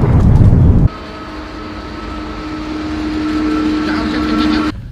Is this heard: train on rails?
yes